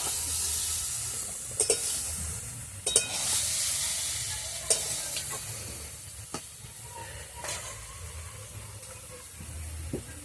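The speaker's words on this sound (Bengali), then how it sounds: "আমি এবার নারকেলের দুধটা ওর মধ্যে দিয়ে দেব।" Coconut milk goes into banana stem curry frying in a pan, giving a quiet, steady hiss broken by occasional scraping stirs and small clicks.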